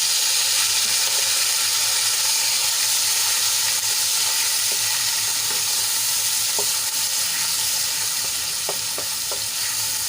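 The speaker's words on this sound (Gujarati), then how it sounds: "ડુંગળીને આપણે સરસ રીતે તેલમાં મિક્સ કર્યા બાદ એને એકદમ લાલ થવા દઈશું" Onion frying in oil for a methi papad curry, a loud, steady close sizzle that fills the whole clip, with a few faint spoon clicks now and then as the pan is stirred.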